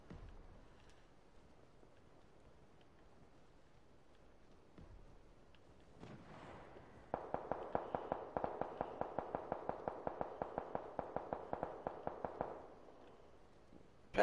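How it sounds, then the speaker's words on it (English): Mortar shells landing in the video game PUBG, a faint thud followed by a fast, steady series of crackling explosions lasting several seconds, moderately loud against quiet background. "These motherfuckers are about to hit my ass with a mortar."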